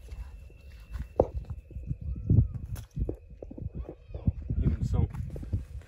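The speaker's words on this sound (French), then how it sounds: "On a des ânes." Donkeys' hooves clip-clop on a road with the animals moving close by, under steady talk, with scattered knocks and shuffling throughout.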